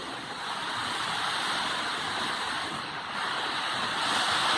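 Storm wind and rain rush steadily at dawn in Sa Kaeo, forming a broad, even roar that swells slightly near the end, with no speech.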